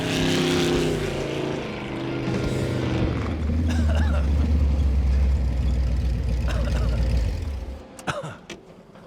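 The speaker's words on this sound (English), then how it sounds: "The sound of the exhaust right there in stereo, pure adrenaline rush." A custom tube-chassis off-road vehicle roars with a deep, throaty exhaust drone, revving and rumbling loudly and close for several seconds before cutting off, followed by a few faint knocks.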